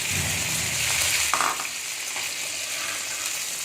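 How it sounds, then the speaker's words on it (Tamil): Sliced onions sautéing in oil in a pan for paneer butter masala, a steady close sizzle and crackle with a brief stirring scrape, no voices. "இந்த அளவு நல்ல வெங்காயம் எண்ணெயில் நல்லா வதங்கணும்."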